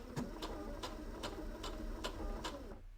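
A sewing machine runs a short securing stitch through felt, its needle tapping out a steady, even rhythm of about six strokes at close range before stopping abruptly.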